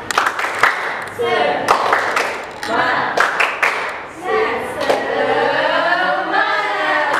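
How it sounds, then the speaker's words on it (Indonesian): A class of students claps the patterned 'tepuk semangat' rhythm during a teaching practice session, with sharp bursts of hand claps interleaved with voices chanting and speaking along. "silakan tepuk tangan dulu"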